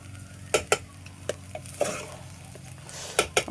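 Egg and hotdog fry in a hot pan for fried rice, a steady sizzle broken by several sharp clinks and scrapes of a utensil against the pan.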